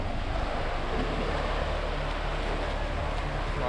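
Ocean waves wash onto Elephant Beach in the Andaman Islands on a windy day, a constant broad roar of surf mixed with wind buffeting the microphone, steady and unbroken.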